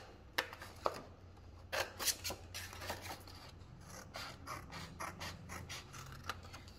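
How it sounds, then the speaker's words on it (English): Scissors snip through a sheet of A4 paper to cut it in half, a series of close, crisp cutting and rustling sounds in irregular bursts with no talking. "I want you to cut that A4 paper into 2 pieces. Just cut right along the middle"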